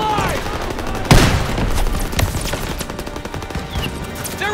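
Call of Duty: World War II gunfire, a loud, continuous battle of rapid machine-gun bursts and rifle shots with a heavy blast near the start and shouted commands mixed underneath.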